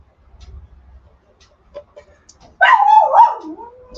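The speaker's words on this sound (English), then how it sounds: "Sorry about the dog." After a near-quiet room, a dog lets out one drawn-out, yelping bark that bends in pitch and is close and fairly loud.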